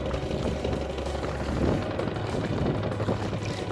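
Strong wind buffets a small rowing boat out on a lake during net fishing, a steady loud low rumble of gusts across the microphone with faint water and boat noise, no voices.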